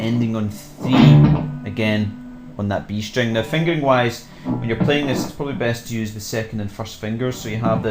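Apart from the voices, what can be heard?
No everyday noises stand out.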